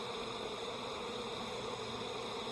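A honey bee buzzes close to a subarctic beekeeper's face, a continuous, even, high drone that holds steady throughout at close range, with no talking.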